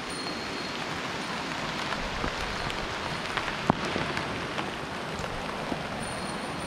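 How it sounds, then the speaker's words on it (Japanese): Rain begins falling on a mountain trail while hiking from Furano, a dense, even hiss of drops close around the listener, steady throughout with no voices. "雨降ってきましたね。"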